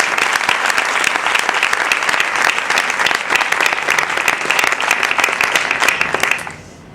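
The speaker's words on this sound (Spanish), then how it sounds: "Un aplauso" An audience applauds steadily at the close of a talk, a dense, even wash of clapping that carries on for several seconds before quickly thinning out and fading near the end.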